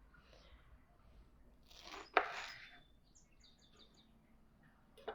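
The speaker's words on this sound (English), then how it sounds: "you take this bunch and you need to cut off pretty much this whole part" A knife cuts the base off a bunch of enoki mushrooms in one crisp, close cut, with a smaller tap near the end, in otherwise quiet surroundings.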